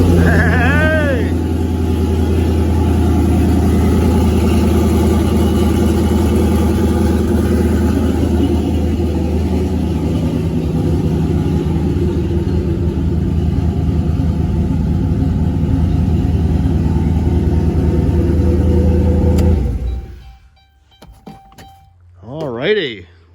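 A turbocharged LS V8 fitted in a Caravan project car cranks and idles loudly with a deep steady rumble for about twenty seconds before shutting off, followed by brief faint sounds.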